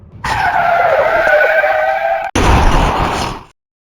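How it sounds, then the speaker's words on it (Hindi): Car tyres screech in a sharp skid as the brakes are slammed, a loud, continuous squeal with a brief break before a second burst that then cuts to silence. "अमर ने हड़बड़ी में ब्रेक लगाया, लेकिन वो उस एक्सीडेंट को नहीं रोक पाया।"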